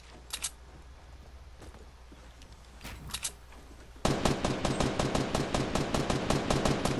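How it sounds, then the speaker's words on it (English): Gunfire in GTA: a few scattered distant shots at first, then from about four seconds a loud, rapid, steady burst of automatic fire up close. "They getting shot at by somebody"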